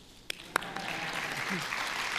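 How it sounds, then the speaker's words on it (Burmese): Clapping from a congregation during a Myanmar-language church service, starting with a couple of sharp isolated claps and then swelling into steady applause, with a faint voice underneath. "လက်ခုပ်တီးဖို့လားတီးလေတီးလေ"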